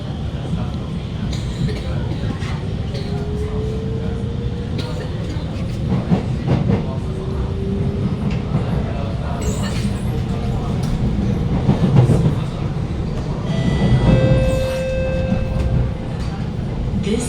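SMRT Alstom R151 train running from Bukit Gombak toward Jurong East, a steady low rumble with rail clatter throughout, a rising motor whine and a few brief squeals, with faint onboard announcement voices under the noise.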